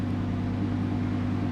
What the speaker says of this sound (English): So right now I'm in Corsa mode and I'm going to rev it a bit